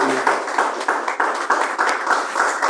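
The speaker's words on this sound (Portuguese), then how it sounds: "palmas para Jesus. Isso, bem forte para ele" A church congregation claps loudly and energetically, a strong, close wash of applause with a slightly rhythmic pulse.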